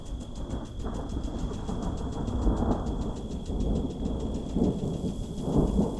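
Thunder from a summer lightning storm over Montana rangeland, a continuous low rumble rolling steadily with swells rather than sharp cracks, and a faint high whine running through the background; no voices.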